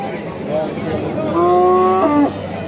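A single loud, drawn-out cow moo rises from about halfway through over a noisy outdoor background of murmuring and bustle at a livestock market.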